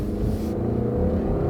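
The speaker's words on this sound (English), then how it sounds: "We'll see what this little engine can do." A small Subaru engine accelerates from inside the car, a steady low rumble and drone that holds close and even throughout with no talk over it.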